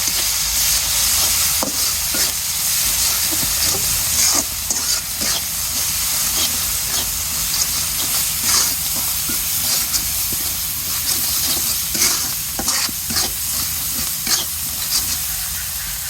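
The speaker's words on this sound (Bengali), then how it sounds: "মশলা কষানো হয়ে গেছে" Spices for a drumstick and fish curry sauté in a pan with a loud, steady hiss and sizzle, broken by repeated scraping strokes of a stirring spoon.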